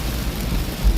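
Rain pours during a drive from Toronto to Niagara Falls, a dense, loud, continuous hiss with a low rumble underneath, no voices.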